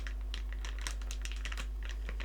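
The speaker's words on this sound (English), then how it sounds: "try and play with the wrapping of my chocolate bar" Chocolate bar wrapper crinkled by hand up close in a soft-spoken setting, giving a steady run of light crackles and rustles with small bursts, quiet and alone with no talk.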